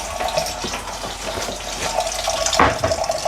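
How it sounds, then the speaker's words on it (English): Tap water runs steadily into a cooking pot for canning beets, a continuous close rushing flow with a brief louder splash near the end. "I'm going to fill the pot with half water"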